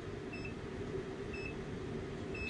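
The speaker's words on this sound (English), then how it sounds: "Starts beeping here, and then you can hear the beeper behind us." Ice fishing bite alarm beeper sounding outdoors on a frozen lake, giving three short, faint high beeps at a steady interval over a constant hum of wind and background noise.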